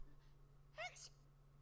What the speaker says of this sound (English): Oh, bless you, Seiko.